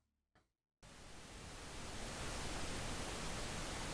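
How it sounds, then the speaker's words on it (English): Pink noise test signal used to calibrate studio monitors switches on abruptly after a brief quiet stretch with a small thump, then holds as a steady, dense broadband hiss that swells slightly and stays constant. "it's important to go back to pink noise at that same level"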